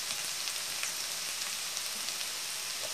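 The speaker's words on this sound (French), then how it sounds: "Vous faites revenir les échalotes." Shallots fry in sunflower oil in a wok with a soft, even, continuous crackling sizzle and no pauses, heard close but quiet.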